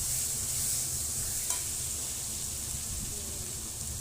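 Masala spices frying in oil in a home kitchen pan, a steady close hiss of sizzling with faint stirring scrapes and one brief clink, continuous and even throughout.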